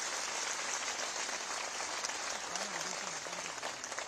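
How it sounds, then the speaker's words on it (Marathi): A large crowd at a rally of striking anganwadi workers claps together in steady, dense applause that holds at an even level from start to finish. "जरा एकदा दोन हातात टाळ्या तर वाजून दाखवा."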